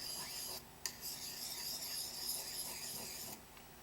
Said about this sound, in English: make sure that you keep the sharpener at the bevel or at the angle that the hatchet or axe is at